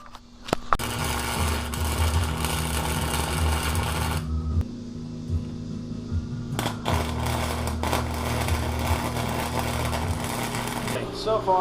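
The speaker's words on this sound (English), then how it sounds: "I'll start welding up the rest of it" Arc welding on the frame of a Honda project vehicle, a dense crackling buzz that runs steadily, cuts out briefly near the middle, then resumes for a second long pass over a low hum.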